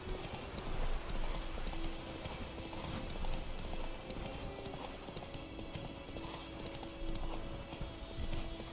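Horse hooves clip-clop steadily in The Witcher 3, a continuous close trotting rhythm that runs through the whole stretch over a low ambient game bed, with an occasional faint snort and no talk.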